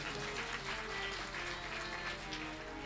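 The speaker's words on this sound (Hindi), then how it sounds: "एक बार अपने लिए आप लोग जोरदार ताली बजा लीजिए।" An audience at a Ram katha religious gathering claps together in a soft, distant, continuous patter of applause lasting a few seconds.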